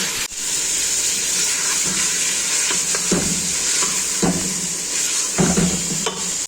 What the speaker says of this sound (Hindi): अब इसके अंदर ऐड कर दूंगी ये जिंजर गार्लिक का पेस्ट, ठीक है। ये होममेड है और इसके साथ थोड़ी सी भुनाई करती हूँ